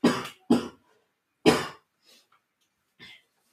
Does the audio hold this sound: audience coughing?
yes